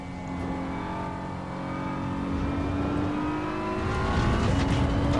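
A race car engine in the Assetto Corsa EVO racing game drones and climbs in pitch as it revs through acceleration, loud and continuous with no talk.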